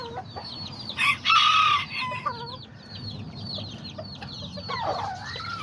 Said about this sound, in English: this is one of my favorite little white roosters